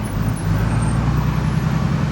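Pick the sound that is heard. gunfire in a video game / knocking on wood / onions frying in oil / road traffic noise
road traffic noise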